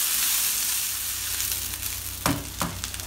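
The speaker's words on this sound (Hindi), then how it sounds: "अभी इसके अंदर मैं राइस डालूँगी। डाल के मैं थोड़ा भून लूँगी।" Rice sizzles and fries in a pan with light-browned onions as it is sautéed, a steady close hiss with a couple of sharp stirring scrapes near the end; no talking.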